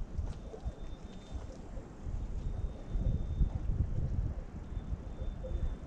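Wind gusts around a cabin, a low, rumbling buffeting that swells and fades in uneven waves, with faint bird sounds in the distance.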